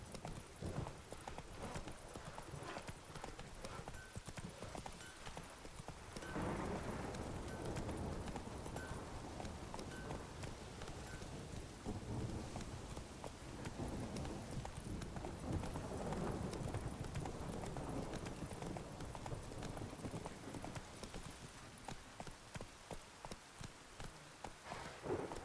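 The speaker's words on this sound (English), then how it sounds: "Not so fast, Roach." A horse's hooves clip-clop at a steady gallop through rain in The Witcher 3, the rhythmic beats continuous and fairly close under pattering rainfall.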